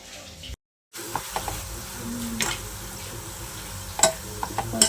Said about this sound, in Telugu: వేగిన ఉల్లిపాయలు తీసేసాను, ఇంకా కొన్ని ఉన్నాయి అన్నమాట, అవి వేయించుతున్నా.